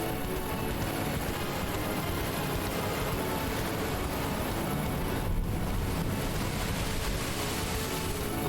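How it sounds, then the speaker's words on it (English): Ocean waves in the TrackMania racing game, a loud, steady wash of surf and wind-like rushing noise that stays constant throughout and buries any music, with no talking. "waves are overpowering the music."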